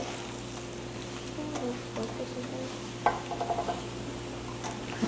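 Vegetables and tofu stir-fry on medium-high heat with added ginger. A steady sizzle runs under a low hum, and a spoon scrapes and taps against the pan in short bursts near the end.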